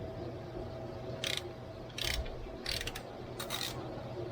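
A ratchet working on alternator bolts of a 2013 Jeep Wrangler JK with the 3.6 Pentastar engine: four short bursts of quick clicking, close but fairly quiet over a low background hum, with no talk.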